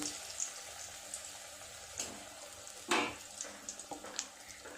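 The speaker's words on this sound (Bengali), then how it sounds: "এইভাবে তেলে ফেলে ডিপ করে করে এইরকম দিয়ে দিব।" Shiuli leaf fritters deep frying in hot oil give a steady soft sizzle with occasional sharper crackles and pops, heard alone at moderate level.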